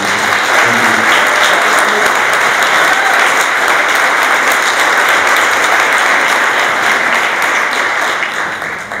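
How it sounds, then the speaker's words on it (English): A sustained round of applause from a seated audience at a 2019 gathering, loud and dense, with many hands clapping continuously before tapering slightly at the end. "can we have another round of applause"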